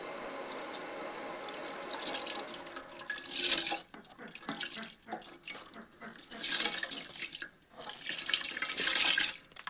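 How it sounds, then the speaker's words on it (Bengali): Soaked rice being tipped into a pot of boiling water while making chicken biryani, a splashing, pouring wash of water in several bursts that swell and fade, close and fairly loud. "তো জলটি এখানে ভালো করে গরম হয়ে গেছে। এরপর দিয়ে দিচ্ছি ভিজে রাখা চালটি।"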